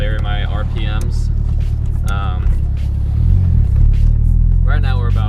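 The engine of a turbocharged Datsun 240Z drones steadily while driving, then swells briefly as revs rise, with someone talking over the loud cabin rumble.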